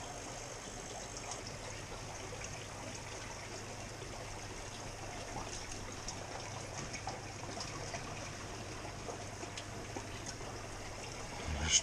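Water running steadily from a flexible black garden hose, a continuous faint trickling wash with a low engine-like hum underneath throughout, no voices.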